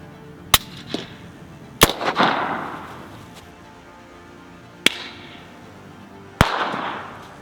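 Four sharp, loud rifle reports from a firearm fitted with a Dead Air Sandman X suppressor, each a hard crack with a short decaying tail, irregularly spaced over several seconds with quiet gaps between.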